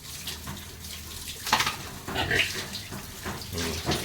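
Tap water gushes steadily with a strong flow, splashing and rising in bursts, with faint background noise and no talking.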